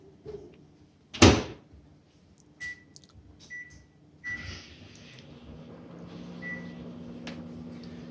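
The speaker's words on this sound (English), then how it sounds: "throw it in the microwave" A microwave door thuds shut on a grilled cheese sandwich, a few short beeps follow as buttons are pressed, then the oven starts with a steady low hum.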